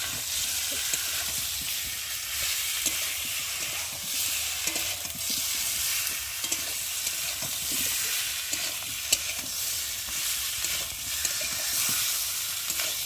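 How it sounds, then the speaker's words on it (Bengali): Boiled green jackfruit and spice paste fry in hot oil while being stirred, a steady, dense sizzle close by with small scraping ticks throughout and no talking. "এঁচোড়ের সাথে মশলাটা ভালোভাবে কষিয়ে নেব"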